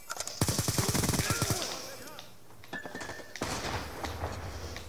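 Bursts of automatic gunfire from the Black Ops 2 video game, a rapid rattling volley up front followed by scattered shots and game sound effects, loud and close.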